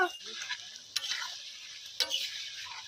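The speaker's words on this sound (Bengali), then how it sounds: "আলুগুলো ভাজা হয়ে গেছে" Potatoes fry and sizzle steadily in a pan with two sharp scraping stirs, the spoon striking the pan about a second apart, close up and alone in a village kitchen.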